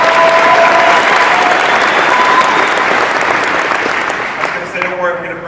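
Audience at a LabVIEW presentation applauding, dense sustained clapping from a large crowd that tapers near the end, with a voice starting to speak as it fades.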